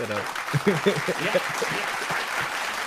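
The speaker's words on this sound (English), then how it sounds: "Let's clap that up." Brief burst of clapping from a small group, mixed with voices talking and laughing over it, fading toward the end.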